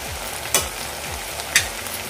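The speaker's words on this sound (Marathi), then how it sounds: "आता यामध्ये मी कोरडे मसाले घालून घेते." Onions and dry spices frying for soya mince, a low steady sizzle with two sharp metallic clinks of a spoon against the pan.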